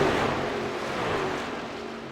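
Truck engine in the iRacing sim at Atlanta, heard from the cockpit as a steady, loud broadband roar with a sustained engine drone that holds nearly constant throughout, no talk.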